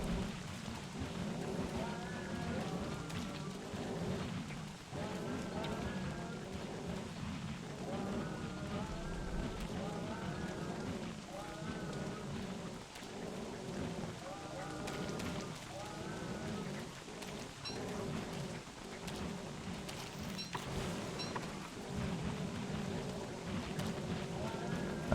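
Steady rain and distant thunder in the video game Don't Starve Together, a constant wash of rainfall under ongoing speech and game music throughout.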